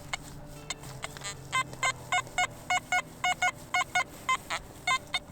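An ORX metal detector signals a ferrous target in the field, a run of about a dozen short, evenly spaced beeps, faint and close over low background noise.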